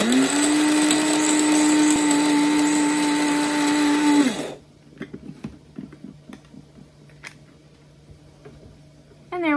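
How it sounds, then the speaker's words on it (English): An electric spice grinder whirs loudly and steadily while grinding lemon zest into lemon pepper, then shuts off and winds down, leaving quieter scattered clicks and rattles of the grinder being handled. "So we're just gonna put it all in the grinder, grind it up a little bit."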